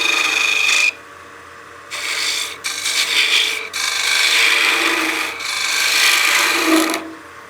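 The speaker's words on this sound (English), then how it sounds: "That way I've got room for that spindle gouge to make the cuts that I need to." Spindle gouge peel-cutting wood on a lathe, steady loud shaving rasp in long continuous passes with brief pauses between cuts.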